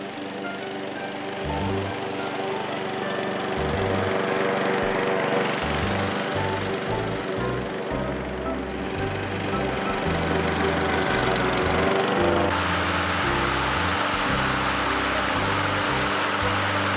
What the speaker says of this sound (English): This mower is really great.